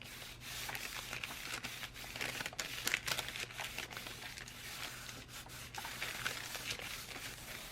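Napkin paper being smoothed down by hand onto a composition journal cover, close, soft continuous rubbing and crinkling strokes with light taps throughout.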